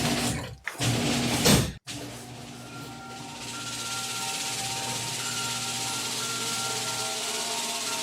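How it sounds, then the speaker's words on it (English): A garage door struggles to open in record low temperatures, with a loud rubbing, scraping rumble cut by abrupt stops early on, then a steady droning mechanical hum that continues to the end. "My garage door had some trouble opening there."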